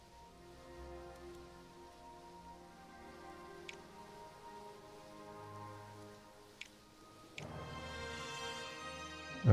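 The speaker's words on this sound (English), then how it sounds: "Now it's raining." Steady rain falls in the soundtrack of the space program strategy game Mars Horizon, a continuous wash layered over a quiet music bed with a couple of faint clicks and a louder swell near the end.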